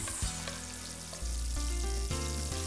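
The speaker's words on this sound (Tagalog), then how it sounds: "in another pan, lutuin na natin ang ating tuyo in oil for about 3 minutes" Tuyo, dried fish, frying in oil in a pan: a steady, close sizzle with crackling pops and clattering bursts from stirring, with no talking over it.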